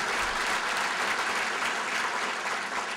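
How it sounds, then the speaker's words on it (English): Luncheon audience at a keynote event gives a round of applause for a transportation secretary, a fairly soft, continuous roar of many hands at some distance, even in level throughout. "Please give a round of applause for Secretary Tata"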